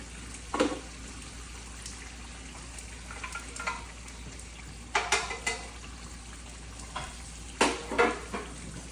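Pasta with spices is stirred in a pot, sending bursts of scraping and clanking against the pot between quieter stretches of low simmering, fairly faint overall.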